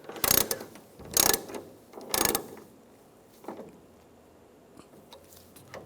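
A wrench ratchets a nut down on a Chevrolet Silverado tailgate damper, giving three loud close clicking bursts followed by a few fainter ratchet clicks, with no talking.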